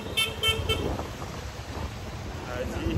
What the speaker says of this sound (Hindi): हॉर्न मारे जा रहे हैं, मारे जा रहे हैं